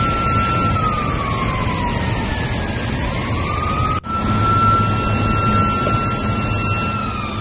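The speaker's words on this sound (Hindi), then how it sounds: "और सायरन भी देखिए आपको सुनाई दे रही होगी" A continuous wailing siren sounds loud and steady beside an overflowing dam, its pitch sweeping slowly up and down with a brief cut partway through, over a dense rushing background.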